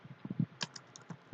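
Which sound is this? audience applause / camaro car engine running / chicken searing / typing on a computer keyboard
typing on a computer keyboard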